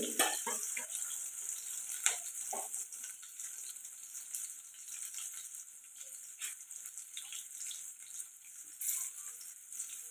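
Potatoes and chana dal frying in a pan, a steady crackling sizzle with sharp pops and spatters scattered throughout, close and moderately loud.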